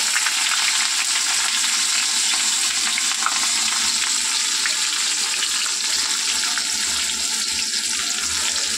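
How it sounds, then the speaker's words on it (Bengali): Onions frying in hot oil in a pan, a loud continuous sizzle with crackling bursts that holds steady from start to finish, with no talk over it. "তো পেঁয়াজটা ভাজা হোক"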